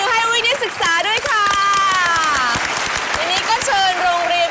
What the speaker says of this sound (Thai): ขอเสียงปรบมือให้วินิศศึกษาด้วยค่ะ